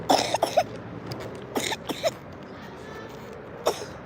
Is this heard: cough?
yes